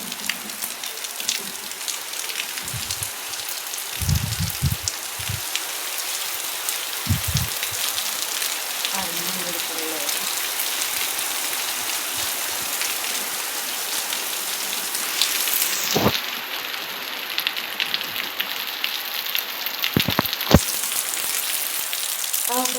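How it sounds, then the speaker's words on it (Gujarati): Steady rain pours down, a constant dense hiss of drops on surfaces, with a few dull knocks and a brief high whine partway through. "ધમધકાનો વરસાદ આવી ગયો છે"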